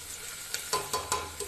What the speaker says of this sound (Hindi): अब इसे हम थोड़ा चला देंगे और बिल्कुल मीडियम फ्लेम पर रखना है कुकर।